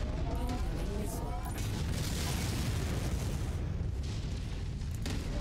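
Missile blasts in MechWarrior 5 with Clan Invasion mods, a King Crab mech under fire, form a loud, continuous roaring rumble of explosions that barely lets up for the whole stretch.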